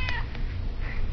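Cat meowing in short bursts, a couple of distinct meows over a steady low rumble, fairly close and clear with no talking.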